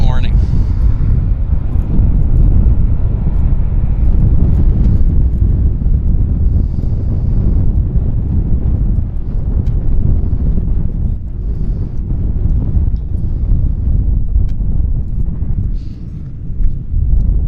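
Strong wind buffets an outdoor microphone at Vancouver Airport during plane spotting, a constant low rumbling roar that persists throughout the clip with no clear breaks.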